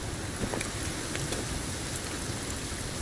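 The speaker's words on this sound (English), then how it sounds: "And it's raining. Epic." Steady patter of rain falling in the survival video game Sons Of The Forest, a dense, even wash with scattered faint drops and a light wind hiss, moderately quiet and continuous with no talk.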